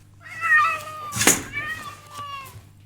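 A cat meows a few times up close, with drawn-out, wavering cries and a brief noisy burst in the middle.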